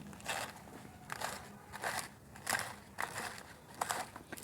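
Waste cabbage and cauliflower leaves chopped into small pieces by hand for homemade organic fertilizer, a series of soft crunchy cuts at an irregular rhythm, close and fairly quiet.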